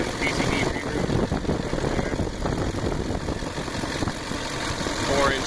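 A 2004.5 LLY Duramax diesel with a 5-inch exhaust pipe, resonator delete and 3-inch downpipe idles with a steady, rumbling low drone that stays even throughout at moderate loudness.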